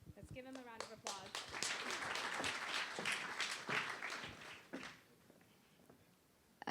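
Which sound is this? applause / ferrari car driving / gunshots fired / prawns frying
applause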